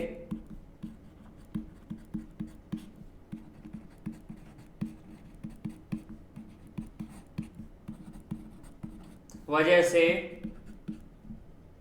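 Chalk or marker writing on a board in a physics lesson: rhythmic short taps and strokes, moderately close, with a voice speaking briefly near the end.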